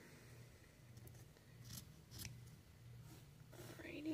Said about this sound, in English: I'm just going to trim up on the sides just so that it's all nice and flat